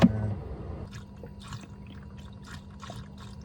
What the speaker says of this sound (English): We're gonna be adding some coolant.